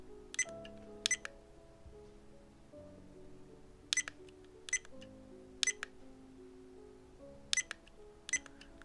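Short electronic menu beeps from a Viofo A119 V3 dash cam, sounding in paired and single chirps at regular intervals over a faint low background hum, close and moderately quiet.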